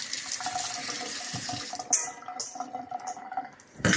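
Tap water runs into a sink while something is rinsed again after foaming up, a steady close splashing stream with a sharper splash midway and a louder gush at the end.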